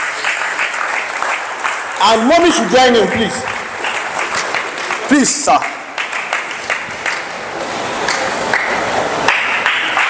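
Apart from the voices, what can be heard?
audience applause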